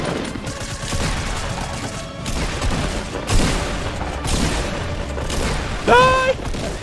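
Gunfire in Fortnite cracks and booms in scattered bursts at moderate distance, mixed with heavy game noise, while a person briefly calls out near the end.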